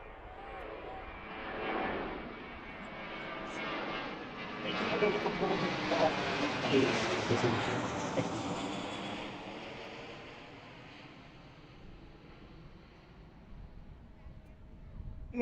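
A United Boeing 737 from Houston lands at Washington Reagan National Airport, its engine roar swelling from faint to loud near the middle and then fading away, with talk faintly beneath.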